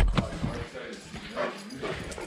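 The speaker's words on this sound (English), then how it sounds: "I can hear him whimpering." A pet dog whimpers and whines in short, high, broken cries at a deer camp, fairly close, against steady outdoor background noise with some voice-like sounds.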